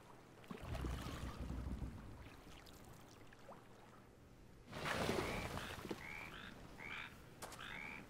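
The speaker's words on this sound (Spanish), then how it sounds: "Es la rana que te estoy escuchando" A frog croaks in the video game A Plague Tale: Innocence, short repeated calls in the second half over ambient water and wind, quiet and somewhat distant.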